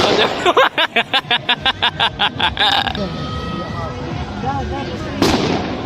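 Rapid string of sharp sky-shot firework bursts crackling in quick succession during Makar Sankranti celebrations, then a busy mix of distant pops and crowd chatter, with one loud bang near the end.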